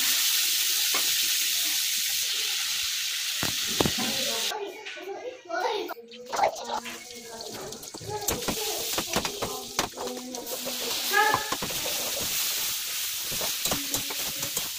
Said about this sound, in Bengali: মাছটা বেশি ভাজবো না, হালকা ভেজে তুলে নিয়ে